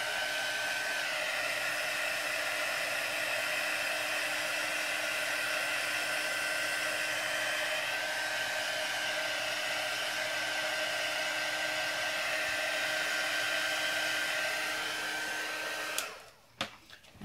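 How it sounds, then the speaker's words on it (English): Heat gun drying paint on a craft tree: a steady, loud blowing whir with a high whine held nearly unbroken for about sixteen seconds, then cut off abruptly with a few clicks. "I'm just going to real quickly run the heat gun over it just for a couple of seconds."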